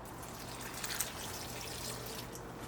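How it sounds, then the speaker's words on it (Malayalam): A glass of water is poured into a pan of eggplant curry, giving a soft, steady trickling wash with a couple of faint splashes, fairly quiet and close. "ഇതിലേക്ക് 1 ഗ്ലാസ് വെള്ളം ചേർക്കുക."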